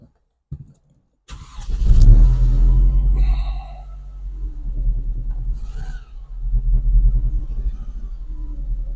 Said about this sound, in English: the car's now running okay. You can see it's idling nicely.